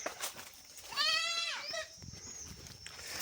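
Osmanabadi goats crossed with a Boer buck on a farm give one clear, wavering bleat of about half a second, followed by a shorter cry and faint farmyard noise.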